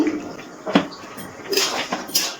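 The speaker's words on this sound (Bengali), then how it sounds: "ঢাকনাটা তুলে নিচ্ছি" A lid lifted off a cooking pan of potatoes and carrots over a low gas flame, a few brief metallic clinks and scrapes, close and moderately quiet, with no talk.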